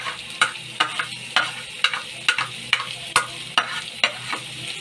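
Crushed green chilies and spices sizzle steadily in a pan over low heat while a spoon stirs and scrapes in a regular rhythm, close and fairly loud, with no talking.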